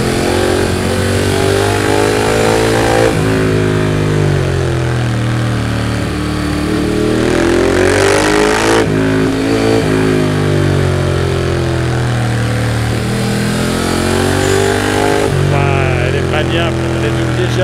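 A 2020 Ducati Monster 821 motorcycle engine-brakes on a downhill descent, its mid-pitched drone rising and falling continuously and loudly, close-up under wind noise.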